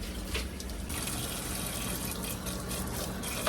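Hot tap water runs steadily over freeze dryer trays being rinsed in a kitchen sink, a quiet continuous splashing stream with no voices.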